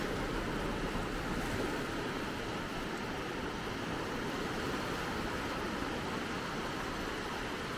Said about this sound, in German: ja, das Meer, das gibt es hier.